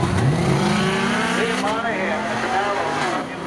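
A Subaru racing in a spectator drag event at Seekonk Speedway, its engine revving and rising in pitch as it accelerates, loud and fairly close, with a commentator talking over it.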